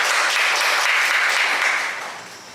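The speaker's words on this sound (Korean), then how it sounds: "박수로 모시겠습니다" Applause from an audience at a Korean social economy policy forum, a steady dense clapping that holds strong and then tapers off toward the end, with no talking over it.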